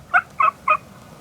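A wild turkey gobbling during a turkey hunt, three short, loud, evenly spaced calls close by with brief quiet gaps between them.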